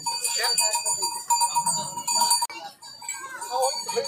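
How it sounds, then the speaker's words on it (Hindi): A metal bull's neck bell clanks and rings with bright, lingering tones as it is shaken, while people talk nearby in a busy outdoor bazaar in Chainpur. "यह है बैल के गले में टांगने वाला घंटा"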